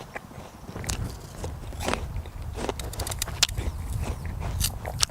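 Crisp bites into a juicy, crunchy apple in an orchard, several close crunching chews spread over a few seconds against a low outdoor rumble.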